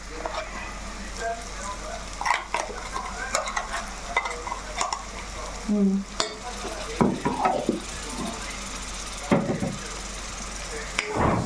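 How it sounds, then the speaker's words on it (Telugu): Onion and green masala fry in a pan, a close steady sizzle with frequent clattering stirs of a spoon against the metal, while a voice talks intermittently over the cooking. "మనం చక్కగా ఇలాగ మసాలాతో కూడా ఇలా వేపేసుకుంటే"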